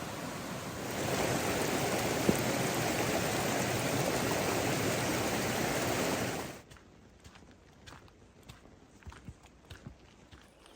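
Heavy rain pouring down on a hike near a stream in the mountains of New Mexico, a loud steady wash of noise that cuts off abruptly, leaving faint scattered drips and rustles.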